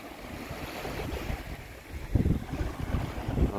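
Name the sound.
sea waves on the beach between Sopot and Gdynia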